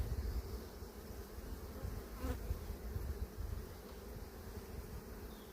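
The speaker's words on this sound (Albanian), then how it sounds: "tani është sezoni rojitjeve dhe ato bletët nuk pyesin shumë" Honeybees at a beehive colony during swarming season make a dense, continuous buzz close by, steady and fairly quiet, with one brief sharp click partway through and no voices.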